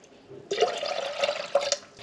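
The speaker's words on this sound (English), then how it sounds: "I'm using tomato juice. So 1 cup going in." Tomato juice pours into a mixing vessel for a preserving recipe, a short liquid splash that starts abruptly and flows for about a second and a half, close and fairly loud, with no talk.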